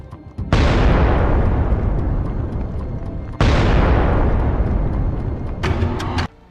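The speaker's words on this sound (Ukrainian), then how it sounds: "Сили оборони запустили дрон на оптоволокні, який власне вразив бойову машину супротивника." Two heavy, close blasts roar out a few seconds apart as a fiber-optic drone strikes a Russian armored vehicle, each loud burst decaying into a rumbling wash, with a few sharp crackles near the end.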